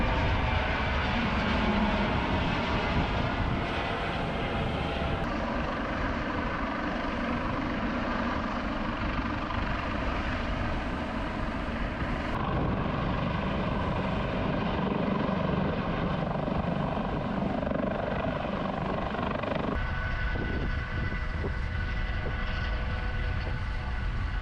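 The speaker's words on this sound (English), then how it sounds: "that is a Coast Guard helicopter." A Coast Guard helicopter's steady rotor roar fills the whole stretch at a jetty in Newport, Oregon, loud and constant, with no voices.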